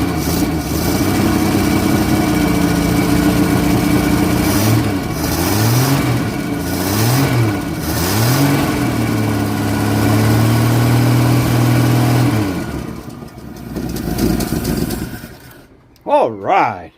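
A 1964 Holden EH Ute engine starting on a little choke, then idling and revving in several rising and falling surges, loud and close, before cutting out; a voice speaks briefly near the end.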